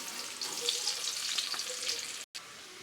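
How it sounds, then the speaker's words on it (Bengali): Eggs fry in hot oil with a close, steady crackling sizzle that holds throughout, apart from a brief dropout shortly before the end. "ডিমগুলা ভালোভাবে ভাজা হয়ে গেছে"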